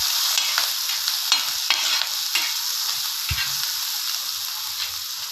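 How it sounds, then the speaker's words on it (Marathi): A spoon stirs soybean curry in hot oil in a pan, with steady sizzling and frying hiss broken by scraping strokes and light clinks, close up and without speech. "त्यामध्ये थोडंसं तेल टाकायचं, परत एकदा फिरवायचं।"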